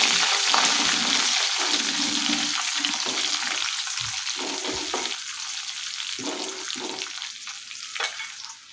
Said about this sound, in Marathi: इथे मी कढीपत्त्याची पानं घेतलेली आहे आता हे एक मिनिट परतून घेऊया